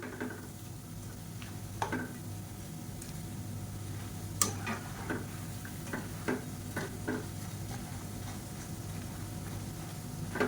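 Ribbon pakoda frying in oil over a medium flame, a steady low sizzle throughout with scattered sharp pops and crackles from the pan, fairly faint and with no voices.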